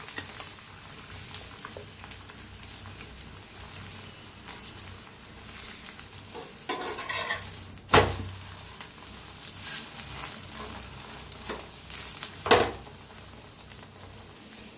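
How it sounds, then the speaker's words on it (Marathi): An egg flatbread fries in oil in a pan with a soft, steady sizzle, while a few sharper clicks and spatula scrapes stand out along the way; no talking. "फिरवून दोन्ही साईड छान असं भाजून घ्यायचं आहे."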